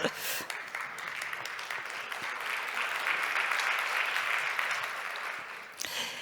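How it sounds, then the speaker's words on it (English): Audience applause at a media industry conference, sustained clapping that swells in the middle and dips near the end, with a voice speaking over it at the start and close. "yes, you can definitely applaud for that"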